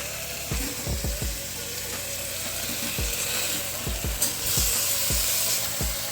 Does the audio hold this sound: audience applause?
no